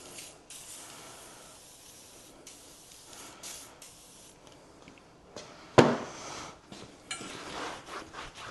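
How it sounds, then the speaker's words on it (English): WD-40 sprays onto a Land Rover Defender suspension bush in short hissing bursts, one sharper spray near the end, close and fairly quiet against faint background rustling. "we'll get a bit of WD-40 on that"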